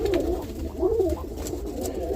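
Roller pigeons coo in low, rolling bursts close by, two or three phrases repeating without any talk.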